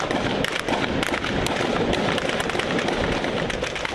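Dense, continuous gunfire from a battle in Libya: a steady loud crackle of rapid overlapping shots and bursts with no pause, some reports sharper and nearer than others.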